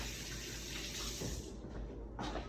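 A kitchen tap runs steadily in a continuous broadband rush of water during hand-kneading of stand-mixer bread dough, with the flow shifting slightly toward the end.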